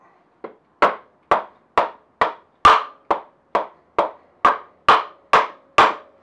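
A hammer strikes a spindle again and again to drive it out while a Suzuki Bandit motorcycle's engine is being removed. About a dozen sharp, loud, evenly spaced knocks ring out close by, with no talk.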